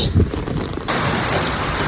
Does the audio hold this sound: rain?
yes